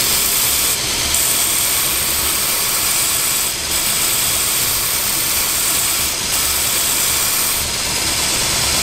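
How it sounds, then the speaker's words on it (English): A grinder profiling the front of a knife handle, with a dust extractor running alongside, makes a loud, steady roar and hiss that holds without a break from start to finish, and no one speaks. "So turn the grinder on, turn the extractor on, and I'm going to clean up that front."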